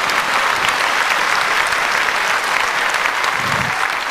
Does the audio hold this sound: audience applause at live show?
yes